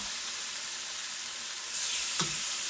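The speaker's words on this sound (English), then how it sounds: "I'm gonna go ahead and add all my pieces of chicken in." Pieces of chicken sizzle as they fry in a pan, a steady broadband crackle that swells briefly near the end as another piece goes in, heard alone without talk.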